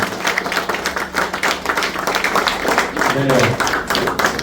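Audience clapping at a yearly meeting of a track maintainer cell, a dense steady patter of many hands filling the room, with a voice speaking over it partway through.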